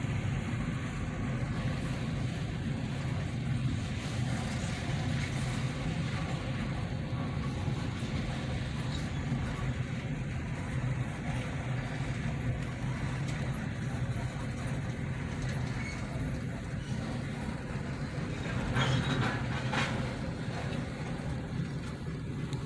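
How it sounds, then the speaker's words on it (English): A Chessie System freight train led by a GP40-3 locomotive, with an old caboose as a shoving platform, rumbles steadily nearby as it slows toward a stop during Christmas day switching, a low continuous drone with no talk. "And there's the old Chessie System caboose they use as a shoving platform, as the train slows down to a stop again"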